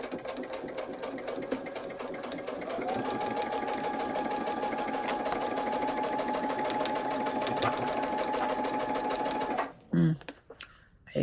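Sewing machine stitching quilt pieces together, a steady, fast motor hum with rapid needle clatter running loud and continuous for about ten seconds, then stopping abruptly, followed by a few small handling knocks.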